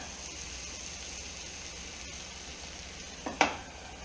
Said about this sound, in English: Turned off and it's still sizzling.